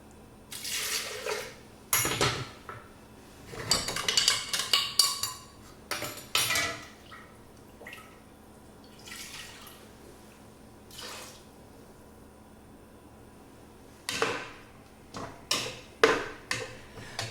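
Filtered water from a refrigerator dispenser splashes over peppers in a kitchen in short, irregular bursts with quiet gaps, mixed with clinks of dishes and utensils.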